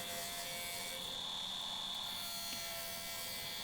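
A wood lathe spinning a sycamore bowl blank at 1400 RPM while a 40/40 grind bowl gouge cuts it, producing a loud, continuous whirring hiss with a steady tone throughout.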